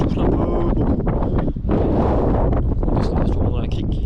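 Strong gusty wind buffets the microphone on the Welsh coast, a loud continuous roar filling the whole stretch with only a brief lull, while a person talks over it.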